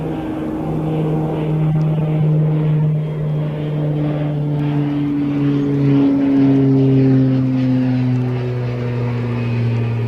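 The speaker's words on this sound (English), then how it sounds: "that's that Beechcraft, isn't it? It's going up with the call sign of Endurance" Beechcraft propeller aircraft climbing out from East Midlands Airport, a steady droning engine tone with slowly shifting pitch that holds loud and constant throughout, with no voices.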